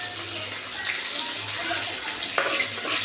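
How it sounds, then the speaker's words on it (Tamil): Mustard seeds and chopped onion frying in hot oil for a festival snack, giving a steady close sizzle and crackle with light stirring scrapes throughout. "கடுகு நல்லா பொரியுது"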